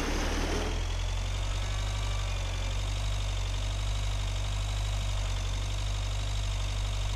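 Tractor engine running steadily while seeding a field in Agricultural Simulator 2013, a continuous mid-to-low idling drone with a constant hum throughout, no talk.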